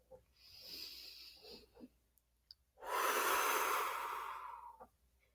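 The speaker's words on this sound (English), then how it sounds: "I close my eyes and take slow, deep breaths that sound like ocean waves." Slow, deep ocean-style breathing: a few soft breaths early on, then one long, loud, rushing exhale that swells and fades like a wave, heard close and alone.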